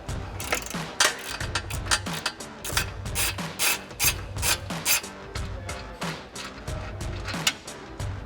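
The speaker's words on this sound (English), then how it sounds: "We're gonna use an 18 millimeter deep socket to remove those." An 18 mm deep socket on a 3-inch extension works bolts loose from a Jeep Wrangler JK front bumper, making rapid, repeated metallic ratcheting and grinding bursts that are loud and close with no talk.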